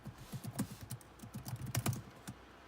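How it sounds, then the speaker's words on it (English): Quick, light keystrokes on a computer keyboard tap out a password in a short burst, soft and close, with brief irregular pauses between clusters of clicks. "I'm gonna go ahead and put my password in."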